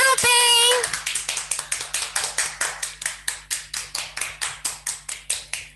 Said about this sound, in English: yay, clapping.